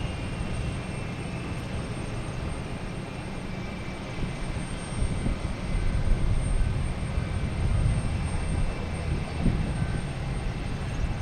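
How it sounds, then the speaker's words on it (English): An Aeromexico jet takes off from Boston Logan Airport for Mexico City, its engine roar building steadily and swelling louder midway through as the aircraft powers down the runway. "We have a Aeromexico lined up to take off, heading to Mexico City."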